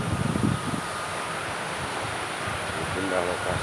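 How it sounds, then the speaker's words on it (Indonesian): A waterfall roars steadily as a broad, even rush of water close by, with brief bits of talk and some wind buffeting the microphone. "Ada air terjun."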